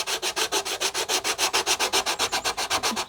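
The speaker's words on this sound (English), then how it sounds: "you're sanding away the ply doubler, not the balsa fuselage side" Sandpaper wrapped around a curved object rubs back and forth over a plywood doubler on a balsa fuselage side of a Hawker Tempest model kit. About twenty steady, even strokes, close and clear, with no voices.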